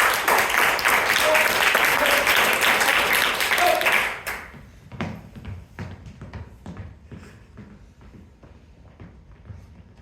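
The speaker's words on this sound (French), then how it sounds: "On peut les applaudir, s'il vous plaît." Loud, dense applause from an audience at an improv comedy show fills the first four seconds, then stops abruptly, leaving scattered footsteps and light knocks on a stage.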